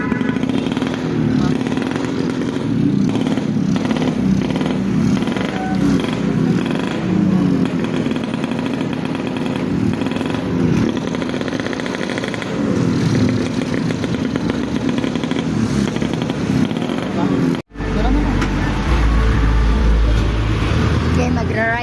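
A motorcycle engine runs steadily and loudly close by, with voices talking over the continuous drone and a brief cut near the end.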